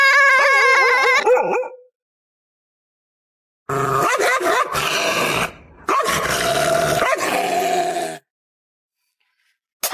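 A dog yips and whimpers briefly, then after a pause barks and growls loudly and repeatedly in close, agitated bursts.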